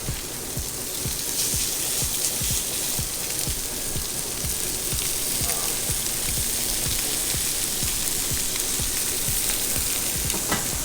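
Grouper searing in a hot pan, a loud continuous sizzle with rhythmic scraping and ticking throughout, close and steady with no speech.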